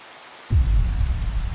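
Rain in the video game Minecraft with the FTB Beyond modpack starts abruptly and continues as a steady, loud hiss of falling rain with no talk.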